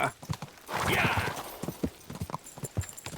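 A horse's hooves clip-clop in a quick, steady rhythm while riding in Kingdom Come: Deliverance II, with a burst of rushing noise early on and a voice talking over the hoofbeats.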